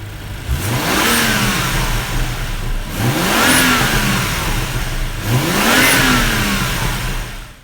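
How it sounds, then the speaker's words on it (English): A 2015 BMW M235i's 3-liter turbocharged inline-six revs three times in a row from idle, each rise sweeping up in pitch and falling back, loud and close with no talking. "Let's go ahead and check out that 3-liter turbocharged engine that's lurking underneath the hood."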